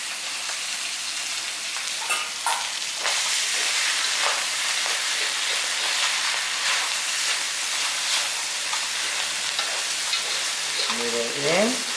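Ramen noodles are stir-fried in a pan with steady sizzling and hiss, broken by repeated stirring scrapes. It sounds close and fairly loud throughout, with no voices.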